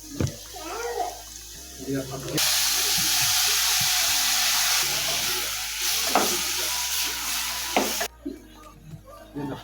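Octopus boils in a salted pot, a loud, steady rushing hiss of bubbling water and steam that holds for several seconds, with voices talking around it.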